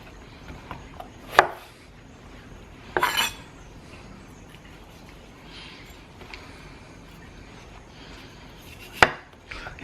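An ENOKING chef's knife chopping a green pepper on a cutting board gives three sharp, isolated knocks spread several seconds apart, close and fairly loud over a quiet kitchen background, with no talking.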